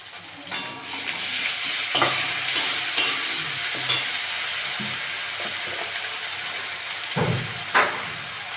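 Sliced onion frying in oil in a pan as ginger-garlic paste goes in, a steady close sizzle broken by several utensil scrapes and knocks against the pan.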